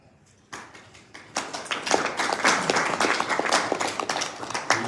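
Seminar audience in Geneva bursting into applause after a speech, starting from near silence as a few claps come in, then swelling into sustained, dense clapping from many hands.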